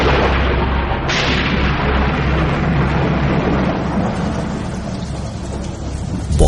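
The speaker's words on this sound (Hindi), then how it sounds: "बहुत ही तेज बारिश होने लगी और बादल गरजने लगे।" Heavy rain pours in a dense, loud roar, with deep thunder rumbling underneath and a sharper crack early on, a continuous storm wash filling the whole stretch without speech.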